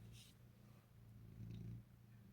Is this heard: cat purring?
yes